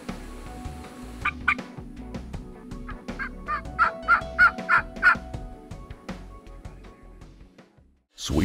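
A series of wild turkey gobbles rings out at a distance in Florida, several rapid rattling calls in a row amid outdoor ambience.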